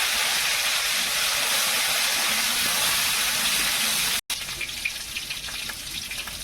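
Chopped tomato sizzles in hot mustard oil in a kadai, a steady loud hiss of frying that cuts out briefly and resumes slightly quieter and crackling.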